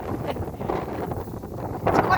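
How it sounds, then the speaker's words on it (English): Gusty wind buffets the microphone outdoors in a winter vegetable garden in Queensland, Australia, a steady broadband rush with a stronger gust near the end, loud and close. "It's quite windy today too."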